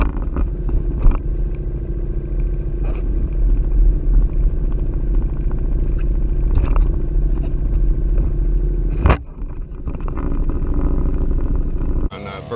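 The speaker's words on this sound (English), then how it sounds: "A little wet dinghy ride." A small inflatable dinghy with an outboard motor runs across the water in the Florida Keys, a steady close rumble of engine and hull slap throughout, briefly cut off and then resuming.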